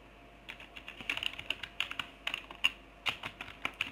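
Fingers tap out irregular keystrokes on a computer keyboard, quick clicks in small clusters with brief pauses, close and fairly quiet, no talk.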